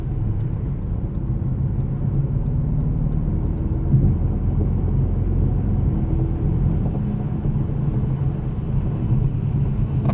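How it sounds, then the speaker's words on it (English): Steady low road and tire roar inside a 2020 Mercedes-AMG GT 63 S cruising at highway speed on a loud stretch of pavement, a constant droning rumble with no speech. "this is a particularly loud section of highway"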